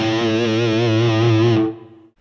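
An electric guitar through overdrive and plate reverb on a Line 6 POD HD500X: one loud, sustained distorted chord held for over a second, then fading out through a short reverb tail.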